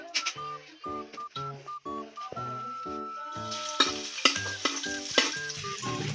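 Oil heats in a pan for frying pako fern for adobo; over background music, a bright, dense sizzle bursts in partway through and keeps going close and loud, with a few sharper crackles.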